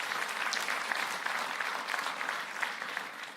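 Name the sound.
applause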